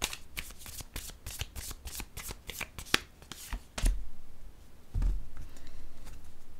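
Close, crisp riffles of tarot cards shuffled in a quick, even rhythm, followed by a couple of low thumps as the deck is handled.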